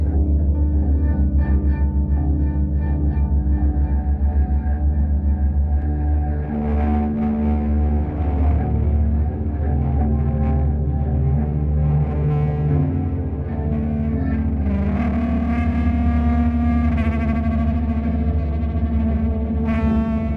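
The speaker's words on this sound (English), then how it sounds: "how the reverb tank of the Dope4 Spring reverb ties into the feedback loop and kind of grinds against each other" Sustained, distorted electric guitar tones with a washy, metallic shimmer from a Dope4 spring reverb tank in a feedback loop, grinding feedback, shifting notes slowly over a continuous drone.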